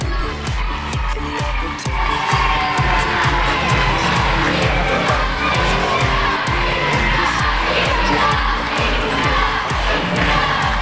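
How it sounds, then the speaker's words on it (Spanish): Large wrestling arena crowd roaring, cheering and whooping for wrestler Johnny TC at a lucha extrema show, loud and continuous throughout with rhythmic chanting-like pulses and shouts. "¡El aplauso para Johnny!"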